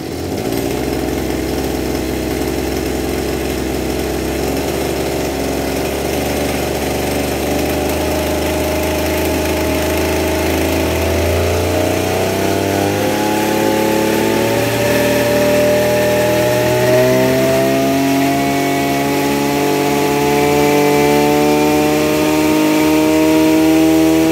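A Maruyama MB2630 26cc gasoline brush cutter runs loud and close. Its two-stroke drone holds steady, then climbs in pitch as the throttle revs up and stays high.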